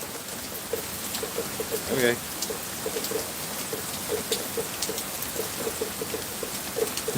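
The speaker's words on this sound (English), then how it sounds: "See in the rain. Can you guys hear this, man?" Steady rain patters on surfaces, a soft continuous hiss dotted with faint drips and taps, while a voice speaks briefly over it.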